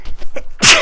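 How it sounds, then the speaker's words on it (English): A single sharp, loud human sneeze lands at the end of a short breathy build-up, close to the listener. "I'm going to sneeze."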